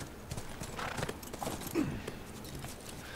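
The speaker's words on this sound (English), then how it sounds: "Or a chestnut stallion like this, named Thunder." A chestnut stallion in The Last of Us video game, hooves clopping at a walk with a brief whinny, over a low ambient game background.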